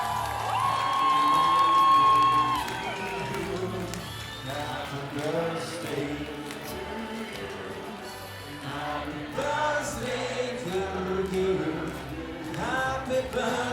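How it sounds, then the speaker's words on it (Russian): A concert crowd at a Tantsuparadiis dance event cheers, whoops and applauds for a birthday guest, a loud sustained roar with music playing underneath and voices shouting over it. "давайте искупаем в аплодисментах этого симпатичного человека"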